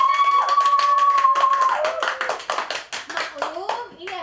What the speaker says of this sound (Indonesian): saya mau minta tepuk tangan dulu ya dong untuk yang ada di studio ini